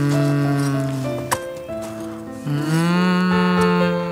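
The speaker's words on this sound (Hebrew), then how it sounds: "פרה יקרה" A cow moos in a long, loud, close call that pauses briefly and then resumes, steady and harmonic, with no talk over it.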